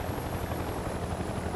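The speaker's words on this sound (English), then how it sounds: "have an attack chopper inbound on your position" An attack helicopter in the Mercenaries 2 video game, a steady, dense rotor and engine roar holding constant throughout.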